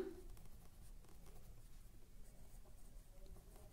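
Pen writing notes during an accounting lesson, a faint continuous scratching with soft irregular strokes close by, no talk.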